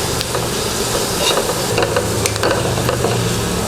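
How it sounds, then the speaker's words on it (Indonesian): Ginger slices sautéing in oil in a pan until golden brown, a steady close sizzle and hiss with faint stirring clicks running throughout, no talking. "Sekarang kita mau tumis jahe. Tumis jahe sampai golden brown."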